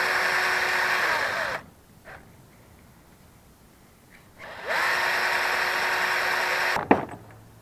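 Power tool scrubbing rust off the shaft of an Atwood RV heater, whirring loudly and steadily in two long bursts separated by a quiet pause, each ending with a quick spin-down.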